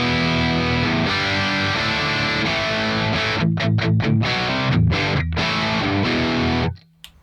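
An electric guitar plays through a Soldano SLO reference amp, giving loud, sustained crunchy chords and a run of choppy staccato strums before the sound cuts off.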